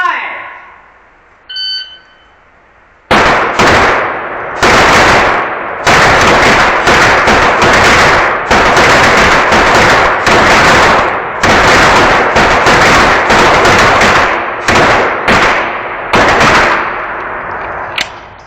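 Glock pistols fire at an indoor shooting range in a timed 75-foot, ten-shot string, with loud sharp shots in an irregular rhythm, some in quick pairs. Each crack echoes off the walls, after a brief electronic start beep.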